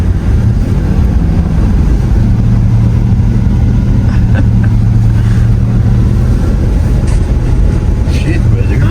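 A truck engine drives around a residential block in snow, with a steady low rumble throughout and a person talking over it.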